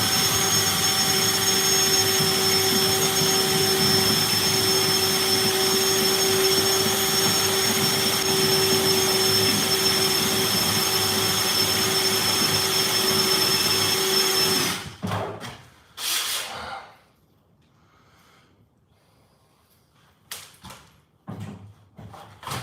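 Grinding through a steel rivet on a bus build: a loud, continuous high-pitched power-tool whine holds steady for about fifteen seconds, then stops, leaving quieter scattered clanks and rustles.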